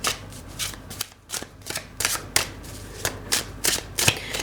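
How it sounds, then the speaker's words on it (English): A tarot card deck is shuffled by hand in quick repeated riffles, with short bursts of crisp card flutter and brief gaps between them, close and clear with no speech. "And I'm supposed to keep shuffling here."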